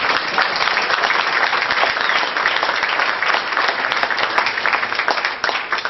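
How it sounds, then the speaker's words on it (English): A large audience applauds continuously, dense clapping at a steady loudness that tapers a little at the very end. "I'm hearing a lot of applause"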